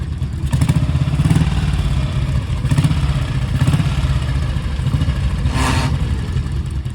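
A motorcycle engine rumbles loudly close by, its deep idle swelling with several short revs.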